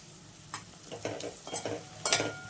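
Onion, turmeric, asafoetida and curry leaves sizzle in hot oil as a tempering for jackfruit curry, with steady crackling fry noise and several close spatula scrapes and stirs, no voices.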